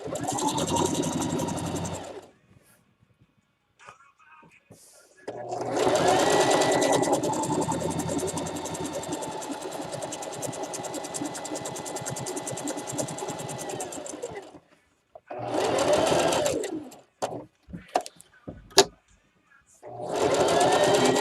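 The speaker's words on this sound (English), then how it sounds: "What's nice about this machine is it does quilting, like free motion quilting" A free-motion-quilting-capable sewing machine stitches fabric for an Easter basket, running in loud sustained bursts separated by pauses, with short stop-start runs and clicks near the end.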